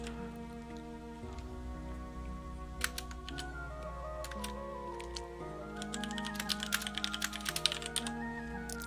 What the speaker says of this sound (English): Let's go ahead and type like we're not an idiot.